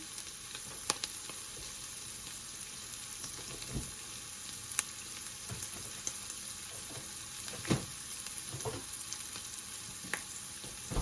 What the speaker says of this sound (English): now we are going to add ginger and garlic paste